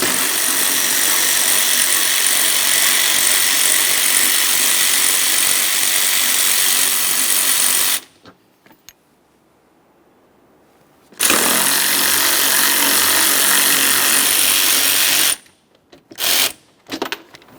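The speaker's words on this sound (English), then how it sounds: "Let's get these 10mm bolts out of here." Power tool spinning out 10mm bolts on a 1999-2006 Chevrolet Silverado 1500 4.3L V6, two long loud continuous whirring bursts separated by a quiet gap, then a few short blips.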